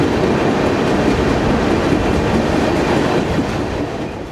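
The Rajdhani Express runs through a tunnel on the Konkan Railway, a loud, enclosed roar of wheels and rattling carriages that holds steady and then eases slightly at the end.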